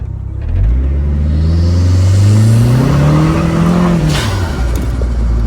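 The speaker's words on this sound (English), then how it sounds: "So I will just take off with some gusto, and you can see it. It should spin the tires." Pontiac Sunbird GT Turbo accelerating hard from a standstill while spinning the tires, a loud close engine roar climbing in pitch through one long rev, then easing off with a brief whoosh.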